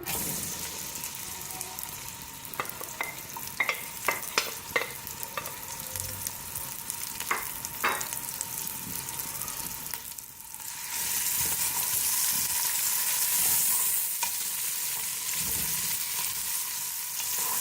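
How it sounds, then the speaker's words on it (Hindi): Sliced onions go into already hot oil in a home kitchen and fry with a steady sizzle, broken by scattered clicks and stirring knocks early on, before the hiss swells louder and brighter near the end. "अब हम इसमें प्याज शामिल करेंगे।"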